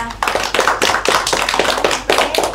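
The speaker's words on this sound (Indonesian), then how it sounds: "beri aplaus untuk kelompok 2" Applause from a classroom audience for the second group at a microteaching session: dense, continuous clapping in steady bursts, close and loud, with no talking over it.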